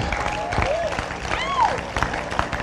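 A comedy show audience applauds the veterans in the room, a close wash of clapping mixed with whistles and cheers that carries through the whole moment.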